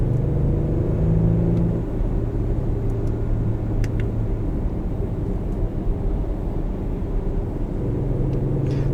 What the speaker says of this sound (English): It's the big truck behind me.